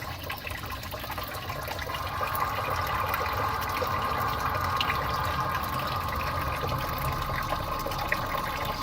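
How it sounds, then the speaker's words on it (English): Antifreeze drains from a 2011 Jeep Grand Cherokee 3.6L in a steady, continuous trickling and splashing flow, moderately quiet and close, with no talking. "I have the antifreeze draining."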